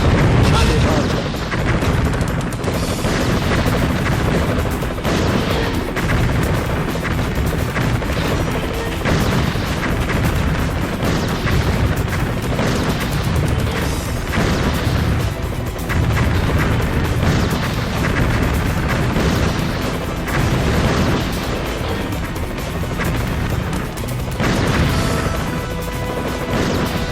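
Rocket launcher explosions go off repeatedly in the game Metal Slug 3D, loud crashing booms in a dense, continuous barrage layered with game music and effects.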